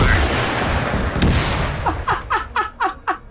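Minigun fire in Arma 3: a dense, loud roar of gunfire opens the clip, followed by a string of sharp, evenly spaced bursts or impacts that trail off.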